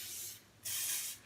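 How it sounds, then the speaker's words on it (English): Two short hissing sprays from a spray bottle onto a single-edge razor blade, close by, the second longer than the first, with no talking. "If you keep the blade clean, you can also give it a spray"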